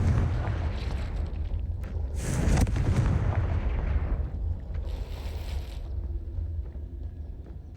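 A Confringo fire spell blasting in Hogwarts Legacy inside a giant spider cave, a loud booming burst with a rumbling, crackling tail that fades over several seconds.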